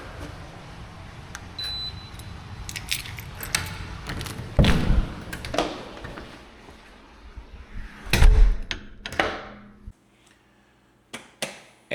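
A front door of a Southwest Florida apartment opens and closes, with two solid thuds from the door swinging shut and latching. Quieter rustling and handling noises fill the gaps before it falls almost silent.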